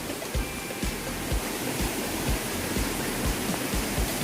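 A forest stream near a waterfall on a trail at Nakhon Nayok rushes steadily, a broad continuous wash of water with regular low thumps like footsteps on rock.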